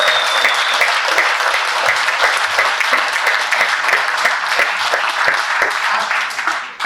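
Sustained audience applause for Mapei at a Hard Rock Cafe evening event, a thick, even wash of many clapping hands that holds steady and fades at the end.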